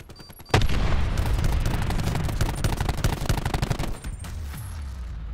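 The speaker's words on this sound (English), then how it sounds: "you detonated the bomb" A bomb detonates in a Call of Duty: Black Ops 4 search-and-destroy match: a sudden loud blast erupts and rumbles on with a rapid crackling roar for about three seconds before easing into quieter game ambience.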